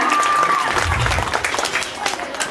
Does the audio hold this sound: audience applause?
yes